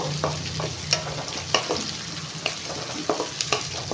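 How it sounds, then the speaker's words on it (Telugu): Onions fry in a pan for chicken curry and pulao, giving a steady close sizzle broken by regular spoon stirs and scrapes, with no talking. "ఆనియన్స్ అయితే ఫ్రై అవుతున్నాయి"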